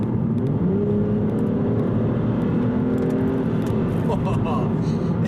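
An Aston Martin Virage pulling hard under full throttle, a deep, rising engine drone with road roar heard from inside the cabin, continuous and loud, with a voice talking over it.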